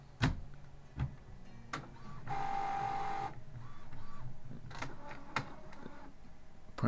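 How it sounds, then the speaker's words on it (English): A desktop printer whirs and clicks indoors: sharp mechanical ticks and knocks at intervals, then a steady motor buzz for about a second in the middle, followed by more scattered clicks and clunks as it settles. "Printer's making noises."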